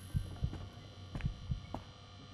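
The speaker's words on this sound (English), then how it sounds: "Can hear my heart pounding from our stamina." A pounding heartbeat in the video game Stay Quiet, a low double thump repeating roughly every half second over a faint steady hum, with no voices.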